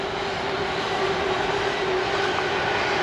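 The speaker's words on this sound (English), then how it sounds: "Of course the freight trains don't care what time of day it is" A steady, loud rumbling drone of a freight train passing near Hawkesbury Junction on the Coventry Canal, England, continuous and even with a faint hum on top, no voices.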